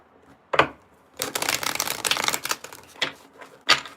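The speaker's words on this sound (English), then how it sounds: "I'm going to shuffle these cards up." Tarot cards being shuffled by hand, with a short riffle near the start, a long dense flurry of papery card noise in the middle and two brief bursts toward the end, close and fairly loud with no talking.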